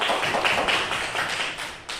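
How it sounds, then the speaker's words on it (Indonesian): Audience applause for a participant at a positive-discipline training session, a dense patter of hand claps at steady loudness, close and continuous for the whole stretch before easing slightly near the end. "Tepuk tangan buat Pak"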